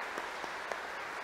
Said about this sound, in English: if we can give our engaged couples a round of applause